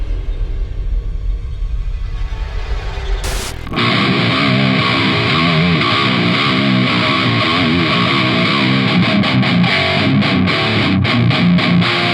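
Loud, heavily distorted electric guitar through a Carvin speaker cabinet roars in after a brief noisy lead-in, a thick sustained crunch with chugging palm-muted rhythm, no voices.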